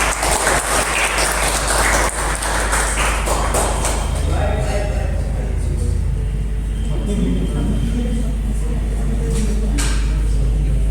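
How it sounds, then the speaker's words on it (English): An audience at a school inter-house quiz contest applauds the winning houses with steady, dense clapping that is loudest at the start and thins out, with some background noise throughout. "So round of applause."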